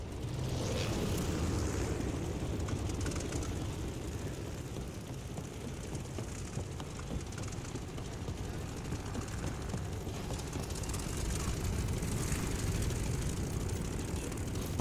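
Fighter aircraft in Call of Duty Vanguard roar through the sky as a dense, continuous engine drone with rumbling low end, holding steady and loud without a break.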